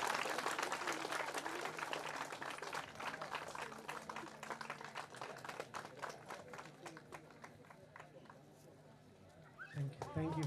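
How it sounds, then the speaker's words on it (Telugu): Crowd applauding at a church blessing ceremony for St. Francis de Sales Church in Ganyapeta, Srikakulam, with dense, sustained clapping that fades slightly toward the end. "చప్పట్లు కొడితే బాగుంటుంది కదా, గట్టి కొట్టండి"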